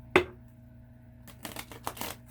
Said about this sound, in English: I've shuffled these quite a bit off camera, but we'll give it just a little more mix up